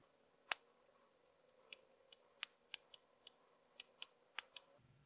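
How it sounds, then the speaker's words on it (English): Scissors cutting a circle out of felt, with about a dozen crisp, separate snips spaced irregularly and heard close up in an otherwise quiet room. "and I'm just going to cut out a circle."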